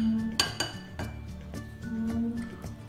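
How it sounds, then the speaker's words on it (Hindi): Eggs with half a spoon of salt are being lightly whisked in a bowl for a masala omelette, with a utensil clinking against the bowl in light, uneven taps about twice a second. "और इसको हल्का सा फेंट लेंगे"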